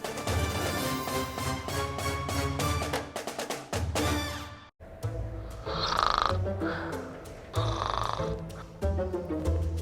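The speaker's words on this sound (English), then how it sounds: "He can help you with that snoring." Loud, exaggerated snoring from a comedic dental advertisement skit comes in a few long, rasping bursts separated by short breaks, set against a busy musical background.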